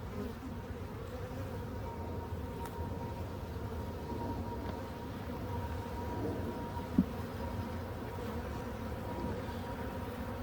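Honeybees in a small nucleus hive with a new queen give a steady, low droning buzz that stays quiet and even throughout, with a single brief tap partway through.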